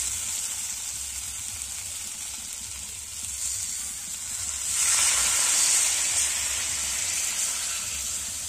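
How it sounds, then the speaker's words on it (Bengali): Coconut milk is poured into a hot frying pan of browned curry: a steady hiss of frying swells into louder, brighter sizzling partway through and then holds. "এবারে নারকেলের দুধটা দিয়ে দেব।"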